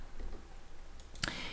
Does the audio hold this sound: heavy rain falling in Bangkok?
no